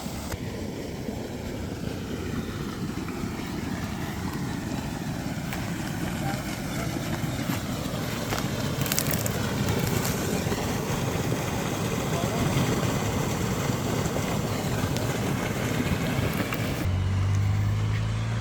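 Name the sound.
18 kW water pump running and pumping water out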